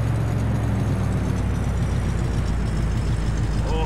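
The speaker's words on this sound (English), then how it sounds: "Definitely sounds like an old, loud, old pickup truck." An old, loud pickup truck in Farming Simulator drones with a steady, moaning low engine hum and a constant mechanical roar that never lets up, heard close and with no voices.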